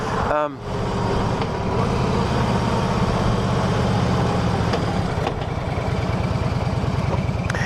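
A 2008 Harley Davidson Ultra Classic Electra Glide with a 96 cubic inch engine and 6-speed transmission rumbles steadily and close while riding, with a low, throbbing drone throughout.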